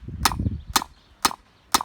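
Hammer peening a scythe blade held against a post: four sharp metallic strikes at an even rhythm of about two per second, close and loud, with faint rustling between the first blows.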